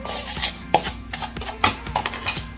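Baking soda and sugar are mixed together to break up lumps, producing close, irregular taps and scrapes of a utensil pressing and stirring against a bowl.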